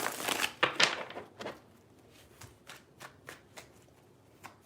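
Tarot cards shuffled by hand in a few quick riffling bursts up front, then softer scattered flicks and taps trailing off, close and fairly quiet with no talk.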